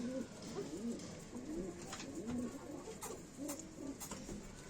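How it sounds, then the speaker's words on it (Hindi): Pure Sambhal pigeons coo repeatedly in soft, rolling, low-pitched calls, several in succession close by, with faint clatter and background noise. "ये प्योर संभल का कबूतर है जी"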